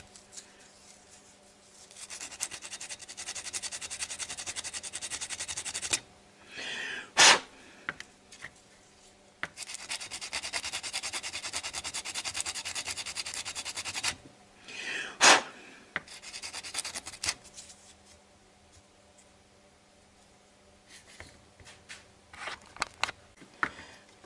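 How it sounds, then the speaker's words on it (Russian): Sandpaper rubbing on the contact of a Nissan distributor rotor, close and alone, in long scratchy bursts of back-and-forth strokes broken by a few sharp clicks and short pauses. "Почистил я бегунок наждачкой."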